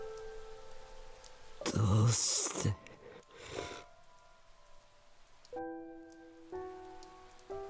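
Rain falls in the visual novel game Chaos;Child, a soft patter beneath a sudden loud burst and brief noisy swells, with a short Japanese spoken line and quiet piano tones afterward.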